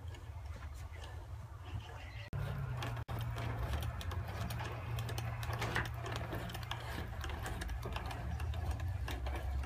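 A toy crank winch from an engineering set lifts a box, producing a steady run of fast clicking ratchet ticks close by, briefly interrupted twice early on, then continuing evenly.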